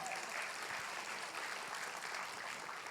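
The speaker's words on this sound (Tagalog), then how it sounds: "Malakas na palakpak sa ating Panginoon." A congregation gives a sustained round of applause during a church sermon, a fairly faint, even wash of many hands clapping with no voices over it.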